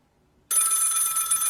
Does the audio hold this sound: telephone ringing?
yes